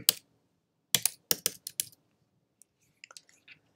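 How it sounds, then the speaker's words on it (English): Keys on a computer keyboard clack as a short word is typed: a few crisp, close taps in a quick run, then a scattering of fainter clicks before it falls quiet. "Let's type in, let's type in the word summer."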